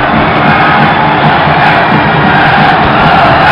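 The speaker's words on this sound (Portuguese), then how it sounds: "Que festa linda nas arquibancadas, a torcida fazendo a festa" Large football crowd roaring and cheering in the stands at a Campeonato Cearense match with Fortaleza, a dense, loud, continuous wash of massed voices with no clear breaks.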